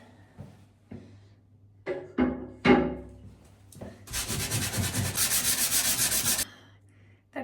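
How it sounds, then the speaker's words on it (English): Sandpaper rubbing a damaged patch of drywall, starting with a few separate scrapes, then a steady, close, loud back-and-forth sanding for about two seconds before it stops. "I thought I could just sand it"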